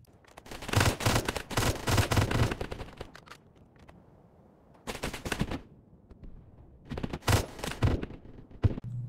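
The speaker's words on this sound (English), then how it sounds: "You can also change the semi-automatic fire by pressing V." Rapid, sharp gunshots from the video game BRM5 come in three loud bursts separated by quiet gaps, close and unaccompanied by speech.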